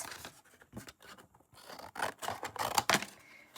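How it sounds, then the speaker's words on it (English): Scissors snip through a thin paper packaging panel in a quick series of close crisp cuts and scrapes, with short pauses between strokes and no voices. "I'm gonna cut the rest of this panel out"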